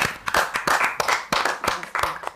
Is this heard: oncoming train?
no